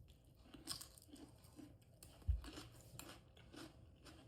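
Raw vegetables are crunched and chewed with chili bhorta at a quiet, close range, in soft rhythmic bites roughly every half second.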